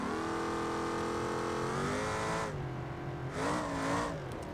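A car's engine revs hard and steadily during a burnout in the BeamNG driving game, with a loud, sustained mid-pitched drone that dips briefly, then climbs again.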